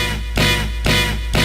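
A sampled orchestral-style hit, the stab that opens a 1990s song, repeats three times in a loud, punchy rhythm, each sharp attack followed by a sustained full-band ring.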